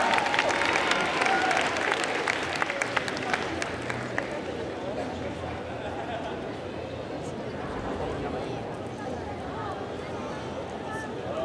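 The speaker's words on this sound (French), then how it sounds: "On applaudit bien fort!" A cosplay contest audience claps loudly in a burst of applause that gradually fades into a murmuring crowd noise.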